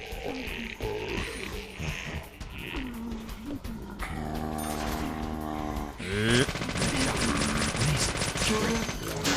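Video game gunfire comes in bursts and rapid automatic volleys, loud and close, mixed with growling game sounds and busy effects.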